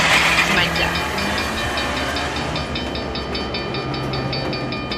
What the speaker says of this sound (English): The train was coming closer. I could hear its bell, its cry, its whistle cry, crying.